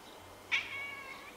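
A domestic cat lets out a single short meow with a sharp onset and trailing tail, moderately close over quiet background noise indoors.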